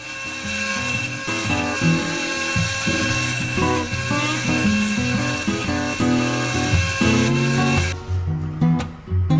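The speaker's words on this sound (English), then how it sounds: "I think I need to take it over to the grinder and try to round it off if I can." A power grinder works a metal teaspoon lock nut into a rounder shape, loud and continuous with shifting whining tones and brief dips as the piece is moved against the wheel.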